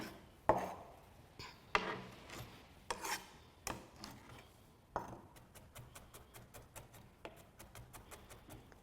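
A chef's knife minces garlic on a cutting board with a run of sharp taps and scraping rasps, starting as spaced strokes and then turning into a quick, even rhythm of close chopping.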